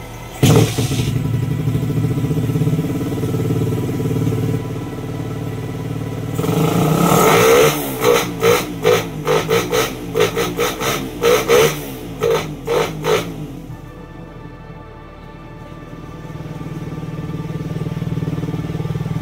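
A Suzuki Raider 150 motorcycle with a hard-starting problem, fresh from a valve shim tune-up, starts and idles, then gets a rapid series of sharp throttle blips close up before settling back to a steady idle.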